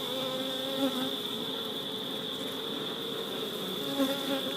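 Honeybees swarm around an open hive split during a quick beekeeping inspection, a dense continuous buzz with a steady high drone, close and loud, occasional bees passing near.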